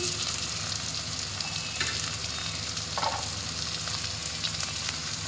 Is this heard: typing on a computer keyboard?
no